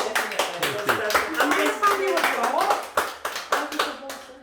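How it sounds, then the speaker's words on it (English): Steady applause from a small group at a Caribbean cooking session, hands clapping continuously close by while voices talk over it. "A round of applause for the chef"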